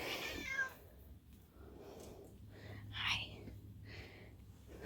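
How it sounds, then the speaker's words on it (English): A pet cat at home meows a few times, with a clear cry near three seconds and fainter ones around it, set against quiet room noise and soft whispery sounds. "that's my cat."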